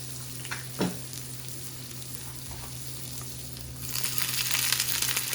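Scallions sizzle in an oiled frying pan, a soft crackle over a low steady hum with a brief knock, swelling into a louder, denser hiss during the last seconds, with no talking.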